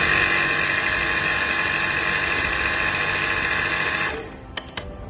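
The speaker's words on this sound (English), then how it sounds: "Run the pump for 20 seconds to fill up hoses and work any air out of the system." An electric hydraulic torque wrench pump runs with a steady, loud motor whine and hum for about four seconds, then shuts off, leaving a few faint clicks.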